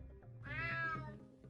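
A cat in the video game Unmetal lets out a single drawn-out meow, clear and fairly close, rising and falling over about half a second against a low background hum.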